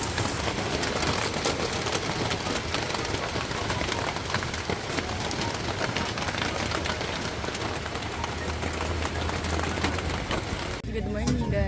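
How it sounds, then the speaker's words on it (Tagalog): Heavy rain pours onto a tarp stretched over a food cart, a dense, steady hiss and drumming that fills the scene, with faint voices buried underneath. "Grabe ulan"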